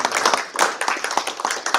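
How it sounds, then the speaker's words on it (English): Applause from a small audience at a board meeting: a few people clapping in quick, uneven bursts, fairly close and loud, with no talking. "So I'd like to give the guys a round of applause for that"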